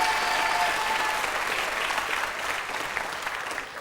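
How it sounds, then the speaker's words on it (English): A studio audience at a 1980 BBC2 variety show gives a full round of applause, a thick, continuous patter of many hands that fades slightly toward the end. "let's start the ball rolling by giving you a very big round of applause for being called Betty and Graham"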